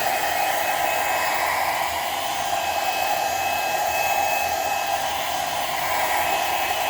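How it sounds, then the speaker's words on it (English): A cheap household blow dryer heats the rubber soles of a pair of Jordan 16 sneakers, a loud, steady, unbroken whoosh of airflow close to the mic for the whole stretch, with no talk. "I'm just gonna give it a quick heating up."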